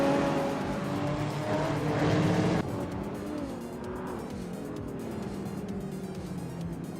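A 2009 BMW Z4 races in a video game, its engine droning loud and steady with shifting pitch, tire and track noise filling the whole stretch, briefly louder before settling.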